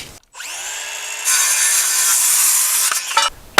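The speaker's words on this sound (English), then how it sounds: "First let's cut this about 47 inches." A power saw cuts through a board for a chicken coop build, spinning up, then biting steadily into the wood for a couple of seconds before winding down; loud and close, with no talk.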